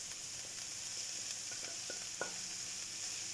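Minced beef frying with onions in a pan gives a dense, continuous hiss and crackle, steady and close, with a few small pops and stirring taps.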